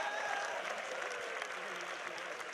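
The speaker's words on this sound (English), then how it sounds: "give this guy a round of applause" Audience applause at a UFC Fight Night Q&A in Auckland, a faint, steady wash of clapping from a crowd that holds evenly throughout.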